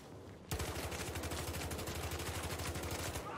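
Rapid automatic gunfire in Battlefield Hardline multiplayer opens with a sudden burst and keeps up a steady, loud rattle of shots for about three seconds before cutting off.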